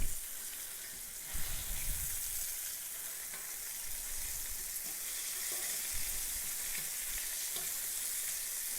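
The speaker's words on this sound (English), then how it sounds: "It's just frying right along." Steady, bright sizzling of chicken frying in hot oil in a pan, continuous and close, with a brief clatter near the start.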